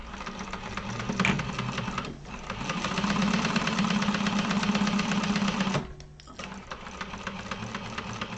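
Close and steady, a sewing machine top stitches through crossbody bag panels, running almost without a break with a brief pause near the end before the motor hums on again.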